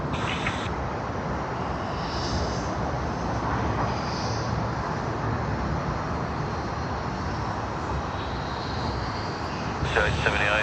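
An aircraft taxis at Sydney Airport, giving a loud, steady jet engine roar with broadband whine that runs the whole time, and radio chatter over it.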